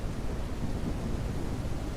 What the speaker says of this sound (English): we get in a like torrential downpour